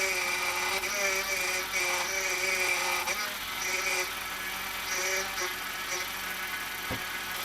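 A power steering pump on a BMW 328i E90 whines with a steady high tonal drone over the engine running, pitch shifting slightly as the system works, with no talking.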